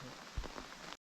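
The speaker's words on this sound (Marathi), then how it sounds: "आणि इकडे पाऊस बघा, भरपूरच पाऊस आहे." Heavy rain falls outdoors at a crab-catching spot, a brief, soft, even patter with one dull thump partway through, cutting off abruptly.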